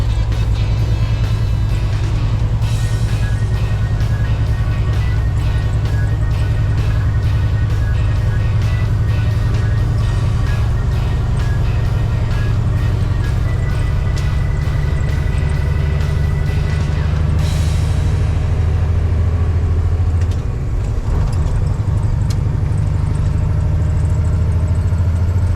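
A truck engine rumbles loudly and steadily while driving, with a shift down from fifth gear changing the engine note partway through and again near the end.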